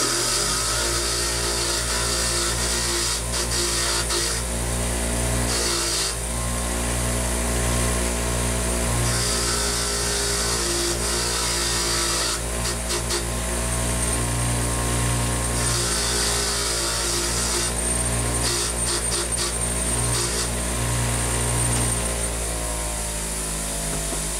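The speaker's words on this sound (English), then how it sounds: "I'm going to run these over a wire wheel real quick." A motor-driven wire wheel cleaning the screws of a Homelite Super XL-925 chainsaw, its steady loud whir running throughout with intermittent bursts of harsher scratching as the screws are pressed against it.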